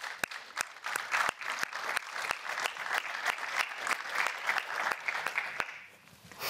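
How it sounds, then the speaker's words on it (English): An audience at the UEFA Women's Champions League quarter-final and semi-final draw gives sustained applause, a full even patter of clapping punctuated by sharp isolated clicks, before fading slightly at the close. "please give a warm applause to Jodie Taylor."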